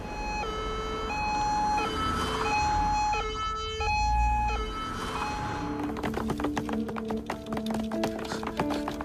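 Wailing ambulance siren, loud and close, cycling through a two-tone hi-lo pattern before a rapid warbling yelp takes over, with no other voices.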